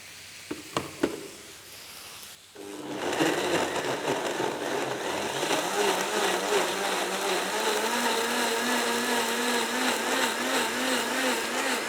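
A few soft knocks come first, then a blender starts up and runs steadily, churning softened chilies into taco sauce with a loud, even whirring drone that continues to the end.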